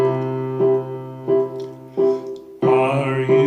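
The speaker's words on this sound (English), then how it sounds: "So Are You Sleeping would sound like this with bass pattern 2," Electronic keyboard plays the nursery tune Are You Sleeping in a lesson, with a steady low bass note on each beat under right-hand chords, clear and close with no talking.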